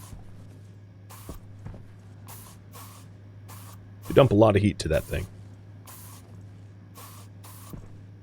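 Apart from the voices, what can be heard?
spray painting pipes in Stationeers video game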